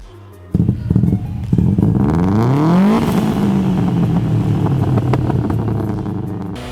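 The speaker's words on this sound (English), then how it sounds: "how it annoys your neighbors with that cool start rumble" A Subaru WRX turbocharged boxer engine cranks and fires up, then settles into a loud, close idle rumble with a rising and falling rev sweep before holding steady.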